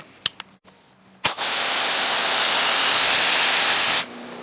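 An ADS DRFT foam cannon sprays a second layer of PF22 onto a car in one loud, steady hiss that lasts about three seconds and then cuts off. A few short clicks come before it.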